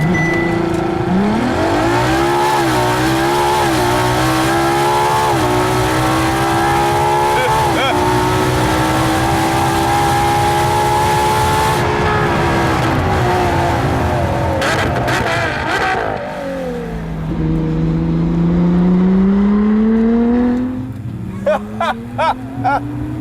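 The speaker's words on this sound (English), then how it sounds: "I'm gonna hit the launch button, go full throttle," A Ferrari LaFerrari launches at full throttle using launch control, its engine roaring and climbing through rising revs with gear-change dips, loud and close from inside the car, easing off toward the end.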